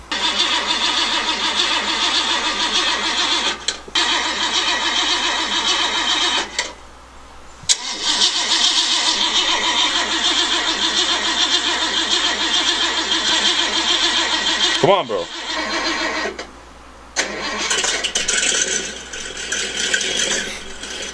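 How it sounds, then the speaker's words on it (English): A truck engine cold starts and runs loud and rough with a dense mechanical clatter, briefly cutting out and catching again, while someone speaks once. "he also sent me a little video of a cold start here"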